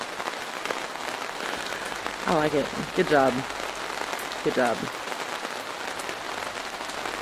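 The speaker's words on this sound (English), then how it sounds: "It's a very peaceful sound, this rain." Rain sound effect inside a Facebook Spaces virtual reality session, a steady soft patter continuing throughout while a person talks briefly in the middle.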